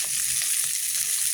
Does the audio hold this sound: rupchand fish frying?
yes